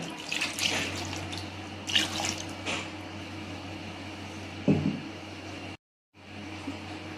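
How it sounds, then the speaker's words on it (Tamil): Water runs and splashes steadily for several seconds with a few brief louder sloshes, then cuts off abruptly before resuming quietly. "லைட்டாக தண்ணி ஊற்றிக்கோங்க"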